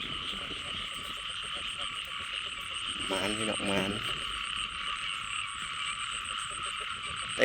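Frogs croak in a steady night chorus by water in rural Thailand, continuous and fairly near, while a man calls out briefly midway over the calling.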